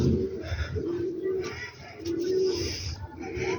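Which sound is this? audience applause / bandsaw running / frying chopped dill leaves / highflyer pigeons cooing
highflyer pigeons cooing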